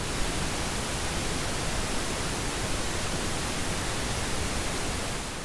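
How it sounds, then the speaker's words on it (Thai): A continuous, dense rushing hiss of pink noise, deeper and softer-edged than white noise, holding at a steady level throughout. "ต่อไปคือ pink noise ครับ"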